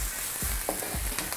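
Shrimp stir-frying in a pan for a Malaysian mixed-vegetable dish, a steady broadband sizzle broken by a few quick scraping stirs, close and fairly loud with no talking.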